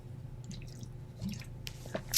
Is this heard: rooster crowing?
no